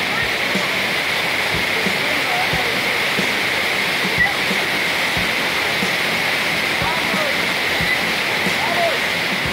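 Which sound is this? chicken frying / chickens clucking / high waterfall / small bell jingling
high waterfall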